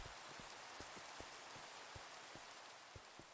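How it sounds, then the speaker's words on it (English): Rain falls steadily in a video game with a broad, even hiss and scattered soft droplet taps, continuous and faint with no voices over it. "It's raining."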